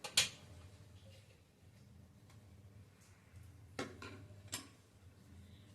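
Saffron syrup being stirred into sheera in a metal pan, with a sharp utensil clink at the start and a few light scraping taps later, faint and close over a low background hum.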